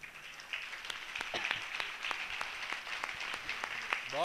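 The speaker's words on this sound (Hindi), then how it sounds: "आपके सम्मान में मैं ताली बजवाना चाहता हूं।" Applause from the audience at a Hindi poetry recital, moderately quiet and scattered, with individual claps standing out within a light crowd patter lasting a few seconds.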